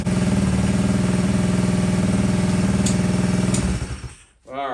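A Honda CT70 motorcycle's small four-stroke engine idles close and loud with a steady pulsing putter, then cuts out abruptly near the end.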